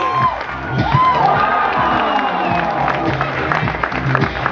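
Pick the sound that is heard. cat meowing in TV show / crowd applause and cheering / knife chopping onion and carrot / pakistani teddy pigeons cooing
crowd applause and cheering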